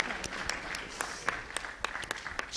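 Audience applause at a quiz final, a modest crowd clapping with distinct individual sharp claps standing out over a soft continuous patter.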